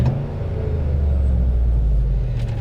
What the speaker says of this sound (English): smashing on the gas on that car after it's been sitting for so long